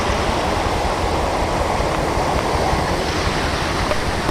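A vehicle drives through water on a flooded road in the rain, a loud, steady rushing and splashing wash that carries on without a break.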